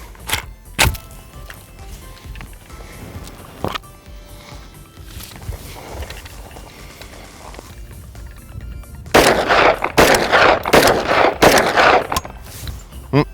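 Rounds fired from a pistol magazine outdoors: two sharp isolated shots early, then a rapid close string of loud cracks with echoing tails toward the end.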